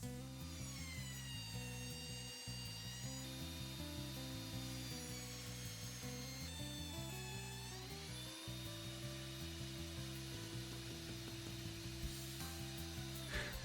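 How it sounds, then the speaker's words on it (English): A belt sander hums steadily, with shifting rubbing tones as wooden glue joints on a scrap-built bird feeder are smoothed, continuous and moderately close with no talk. "let's give it a quick rub on the belt sander to smoothen the glue joints"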